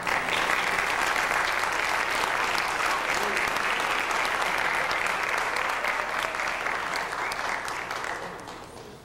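Audience applause at a high school band concert award presentation, a dense, steady clapping from the crowd that holds evenly for several seconds before tapering off toward the end.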